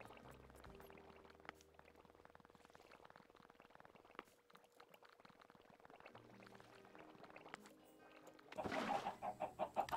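Chicken clucking in the Minecraft video game, a few faint game clucks over quiet ambient sound, followed by louder pouring water near the end.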